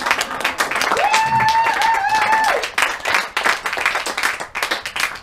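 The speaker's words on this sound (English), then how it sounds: "The audience goes wild." Audience applauding at a clown performance, dense clapping throughout with a sustained whistle-like tone riding over the middle, then the clapping thins into scattered claps.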